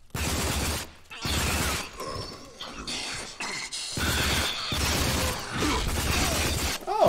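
Gunshots in the video game Rage come as several loud, close bursts separated by short pauses, with booming, crashing blasts in a steady stop-start rhythm.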